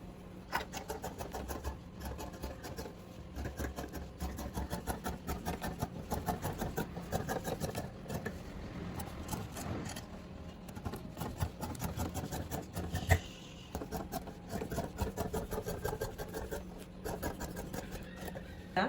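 Scissors cutting through fabric as front pieces for cigarette-style trousers are cut out, a steady rasping, rubbing snip that runs continuously at close range with no talking.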